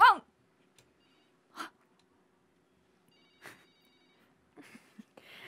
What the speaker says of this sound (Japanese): 誰かから電話が来たよ